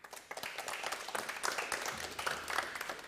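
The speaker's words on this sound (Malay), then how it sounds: "Tepukan kepada Affin." Studio audience applause on a Malaysian TV game show, a dense, steady patter of many hands clapping at moderate loudness, with faint voices mixed in.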